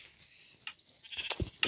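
Minecraft sheep bleating in short, thin bursts, a few separate calls spaced across a brief moment, fairly faint and alone with no talk.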